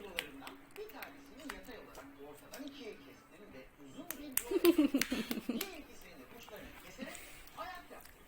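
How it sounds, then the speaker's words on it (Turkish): Hands clap in a short burst of quick, close claps in a home with small children, surrounded by soft chatter and speech before and after. "Alkış."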